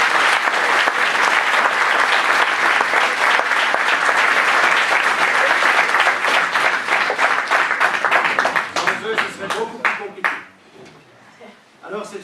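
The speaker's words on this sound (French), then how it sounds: "de les applaudir très fort" Loud, sustained applause from a large audience at a theatrical show, dense clapping filling the room for about nine seconds before thinning out into a few scattered claps as it dies away.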